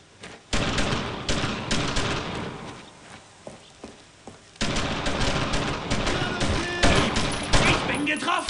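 Rifle and machine-gun fire crackles in the World War II shooter Brothers in Arms: Road to Hill 30, loud rapid bursts with a short lull before heavy firing resumes, mixed with battlefield noise.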